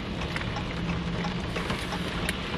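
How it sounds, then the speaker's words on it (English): Steady rain falls outdoors, a constant even hiss of drops with no breaks, moderately faint and alone. "Yeah, it's still raining."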